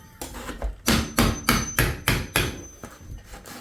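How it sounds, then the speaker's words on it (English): Repeated hammer blows chipping away old, roughly 50-year-old cornice cement, about ten sharp knocks in a steady rhythm, close and loud with no talking. "Chipping cornice."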